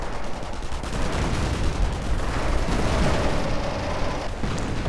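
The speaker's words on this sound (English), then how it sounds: "More artillery going off left and right" Artillery and gunfire rumble continuously in a World War II real-time strategy battle, a dense loud wash of overlapping blasts and crackling shots with no clear breaks.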